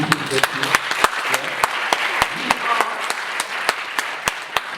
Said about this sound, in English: Give a round of applause for Got TV.